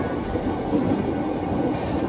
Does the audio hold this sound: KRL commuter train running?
yes